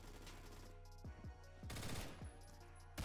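FAMAS rifle firing in the Roblox shooter Phantom Forces, short bursts of rapid automatic shots, close and fairly quiet, with brief gaps between bursts and no talking.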